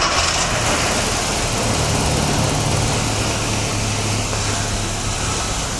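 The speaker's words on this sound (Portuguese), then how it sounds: "vamos dar partida no motor" A car engine starting and running at a steady idle during fault diagnosis, a loud continuous low drone with a broad hiss, no voices.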